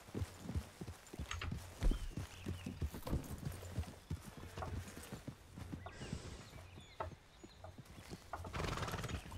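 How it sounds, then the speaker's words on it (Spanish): Horses in the Red Dead Redemption game RedM, with steady clip-clop hooves and a neigh rising above them, fairly quiet throughout. "Ese relinche ha sido de vuestros caballos"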